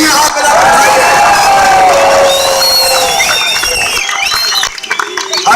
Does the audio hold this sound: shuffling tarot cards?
no